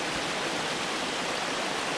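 Dugway Brook, an urban creek, pours into its concrete culvert beside the I-90 freeway, a dense, steady rushing wash of water filling the whole clip with no voices over it.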